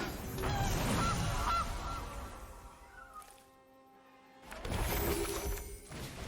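A goose honking effect from the MTG Arena card game sounds as a few quick honks up front, followed by a short shattering burst, a near-silent gap, then a loud closing flourish.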